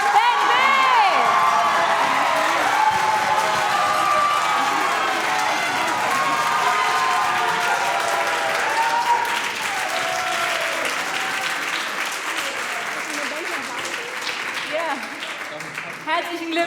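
Loud, sustained applause with cheering and whoops from a large audience at a song contest final, celebrating the second-place finisher. Voices shout over the clapping, which eases slightly toward the end.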